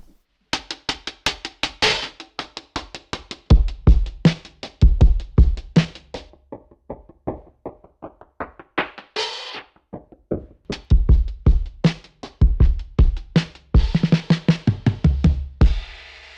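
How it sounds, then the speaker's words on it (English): A drum kit played through a Pro Tools Lofi distortion plugin, with crunchy, degraded kick, snare and hi-hat hits in a steady groove, each strike gritty and thinned out, loud and alone. "degrades the sound of the audio and makes it a little bit distorted."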